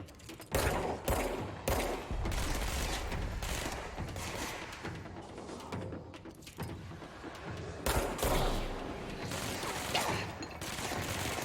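Gunfire in the video game Control comes in repeated loud bursts with short gaps, alongside clattering mechanical clicks.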